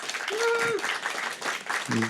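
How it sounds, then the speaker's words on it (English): Audience clapping at a talk on LGBTIQ+ justice, a short burst of applause with a voice sounding over it. "Please give him a round of applause and welcome him"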